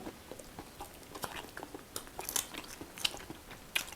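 Baked cheese shellfish is eaten with crunchy chewing: soft, close bites and crisp crackles in an irregular rhythm at low volume, with no talking.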